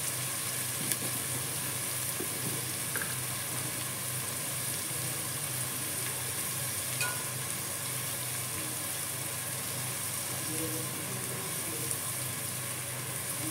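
Onions fry with salt in a pan, giving a steady, even sizzle with faint crackles throughout, close and moderately loud with no talking.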